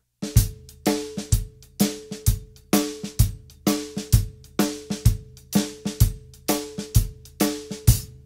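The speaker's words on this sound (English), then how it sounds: "A lot of times I'm doubling up on the snare just to give it a little bit of length," Full drum kit plays a swung shuffle groove, hi-hat over kick with doubled-up snare hits, steady repeating accents recorded close and loud, no talking.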